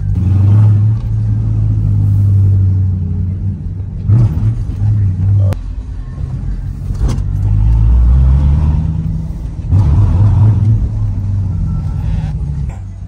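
A manual Dodge Scat Pack rolls in gear with a steady low engine rumble and drone that swells and eases over several seconds, heard from inside the car under occasional voices.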